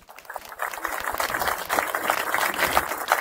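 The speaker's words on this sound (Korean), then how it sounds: "박수 한번 주시기 바랍니다" Applause from a crowd at an outdoor rally marking the 68th anniversary of the Incheon Landing, starting with scattered individual claps and quickly swelling into a fuller, steady clatter of many hands.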